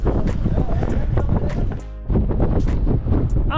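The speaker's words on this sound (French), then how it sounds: "Il y a un vent. C'est terrible." Strong wind buffeting the microphone outdoors during a cycling stunt, loud ragged rumbling gusts throughout with a brief lull near the middle, mixed with voices.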